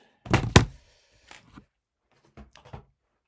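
Keys on a ZX Spectrum + keyboard being pressed while a program is typed in, a few sparse clacks and thumps, one louder cluster followed by faint scattered taps.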